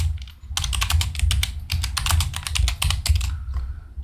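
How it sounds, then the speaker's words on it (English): Quick, steady clatter of keys on a computer keyboard during a typing race game, dense bursts of clicks close up with brief pauses, no voices. "I'm not really good at typing"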